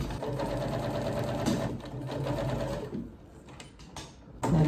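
A sewing machine stitches a seam on an old item under repair, running in a rapid rhythmic whir for about three seconds, then pausing briefly before starting again.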